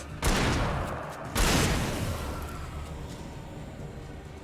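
Two heavy gunshots from a revolver and shotgun in the horror game Alan Wake, each a loud boom trailing into a long echoing decay, with no talking.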